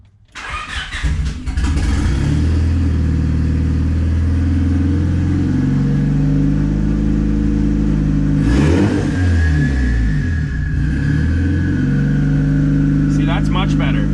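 Turbocharged Honda Civic D16Y8 four-cylinder engine running steadily close by, with a strong low rumble and a surge of revving near the middle, plus brief mechanical clatter toward the end.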